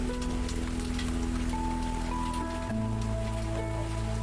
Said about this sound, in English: Are you sad it's raining?